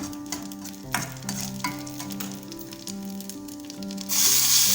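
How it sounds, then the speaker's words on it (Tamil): Chillies frying in a pan on low heat, a close, steady sizzle with repeated stirring scrapes, the frying growing brighter and hissier near the end, no talking. "சிம்மில் வச்சு நல்லா வறுத்து விட்டுக்கோங்க."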